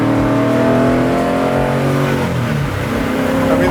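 The 750 hp engine of a 1970 Plymouth Cuda revving while driving, a loud, close, continuous drone with rising and falling pitch as the RPM shifts.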